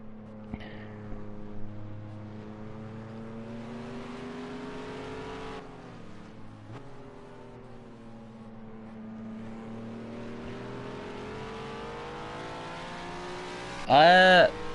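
GT series race cars lapping the Brands Hatch circuit, engine drone rising and falling as a car winds through the lap, with a brief sharp burst near the end; commentary runs over the engines.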